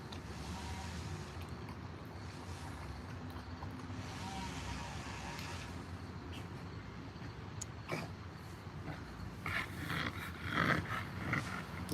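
A large dog pants steadily and shuffles about close by, with faint voices and a vehicle-like rumble in the background, growing busier and louder toward the end.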